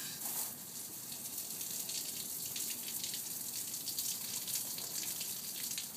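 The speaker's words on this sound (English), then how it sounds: "this is the amazing shrinking hose." Water runs steadily through an expandable shrinking garden hose, a continuous close hiss and gush with no pauses and no voices over it.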